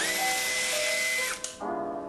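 A Dong Cheng DCJZ 2060i impact drill runs with a steady high whine, briefly cuts out, then spins up again close by, with no talk.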